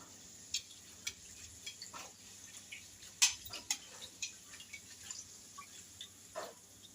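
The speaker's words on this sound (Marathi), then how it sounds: "आणि दुसऱ्या बाजूने छान अशी तळून घ्यायची आहे" Sweet red pumpkin puris fry in hot oil, a quiet bubbling sizzle broken by scattered small pops and clicks, with one louder spatter midway.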